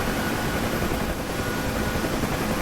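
Helicopter flying in the DCS combat flight game over the East Afghanistan map: a loud, continuous rotor thrum and turbine roar filling the whole clip without pause.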